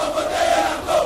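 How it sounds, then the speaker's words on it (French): A large outdoor crowd in Kindu, Maniema, roars and chants in welcome for President Tshisekedi, a dense, loud wall of voices with shouting peaks. "Quel accueil, quel bain de foule à Kindu, chef-lieu de la province du Maniema."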